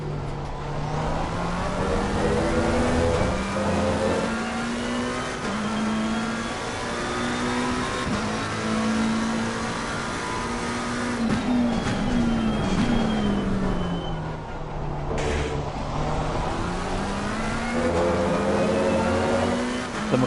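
A McLaren GT race car engine in Assetto Corsa Competizione at a Spa 24-hour event drones loud and continuous, its pitch climbing and dropping repeatedly through upshifts and downshifts.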